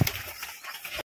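A Kalshira pigeon pair, male and female, coos softly at close range, a low brief murmur against faint background hiss.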